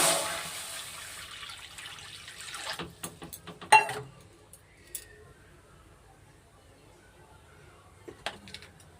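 Water is poured into a pot to heat for steaming a banana-flower mocha bhapa dish, a splashing pour lasting a few seconds that ends in drips and light clunks, then near quiet.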